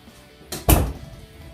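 A single door swings and shuts with a quick whoosh followed by a solid thump, close by, in an otherwise quiet room.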